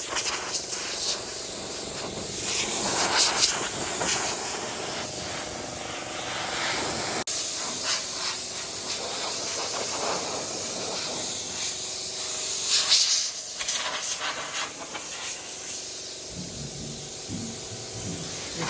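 Compressed air hisses loudly and continuously over a Mk1 Ford Focus RS carbon roof panel, blowing dust off in a steady rushing stream with brief surges and no voices.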